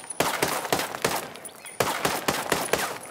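Rapid single shots from a rifle in Ghost Recon Breakpoint, fired in two quick bursts of about five sharp, loud reports each, evenly spaced with a short pause between groups and no talking.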